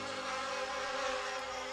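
Steady, dense buzzing of a bee swarm in a biblical cartoon, a continuous insect drone held at an even level throughout without any voices.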